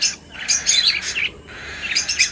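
Small doves and budgerigars chirp and tweet in quick, high bursts, with a brief pause in the middle before the twittering resumes; no talking.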